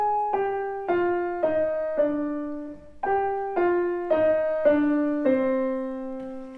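Piano plays a short descending scale fragment twice, the second starting slightly lower, each of four clear notes stepping down in an even rhythm, close and alone.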